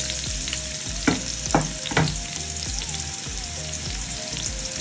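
Onions fry in hot oil for Swahili Kenyan pilau, a dense continuous sizzle with several sharper crackles and scraping stirs near the middle.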